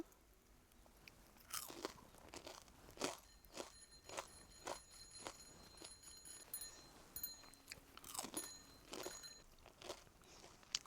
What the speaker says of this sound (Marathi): मी एक खाऊन दाखवते मस्त असे कुरुम कुरुम झालेले आहेत